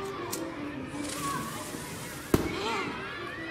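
A firecracker goes off in FNAF: Into The Pit, one sharp loud bang partway through, amid game ambience, music and a speaking voice.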